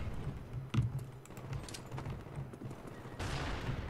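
Gunfire in Call of Duty: Black Ops on PC, a few quick shots around the start followed by a steady busy game soundscape with clicking keys, loud and close.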